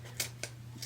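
Scissors snipping through a folded stack of ribbons for a Halloween ruffle wreath, two quick close cuts over a steady low hum.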